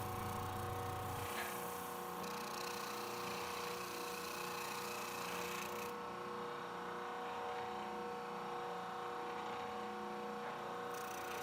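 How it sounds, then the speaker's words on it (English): An oscillating spindle sander works a red zebrawood cutting board, a steady motor hum with a coarse, continuous abrasive hiss running throughout at fairly close range, with no voices. "My daughter's using our oscillating spindle sander"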